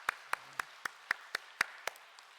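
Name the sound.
church congregation applause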